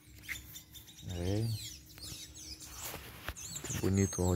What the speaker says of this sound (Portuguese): bonito olhar os passarinhos cantando.